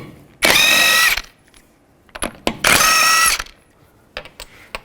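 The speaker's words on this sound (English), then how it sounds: "Take a 21mm socket, remove the wheel." A power tool spins a 21mm socket to remove the front wheel lug nuts on a 2005-15 Nissan Xterra. Two loud whirring bursts of about a second each are separated by metallic clicks and clunks, with no speech.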